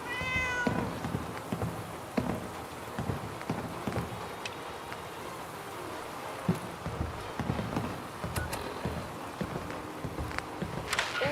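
A cat meows in Fallout 4 amid game ambience, a brief clear meow near the start followed by shuffling, clopping footsteps and scattered clatter, moderately close.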